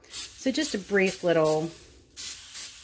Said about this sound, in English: I am gonna spray these with a little bit of coconut spray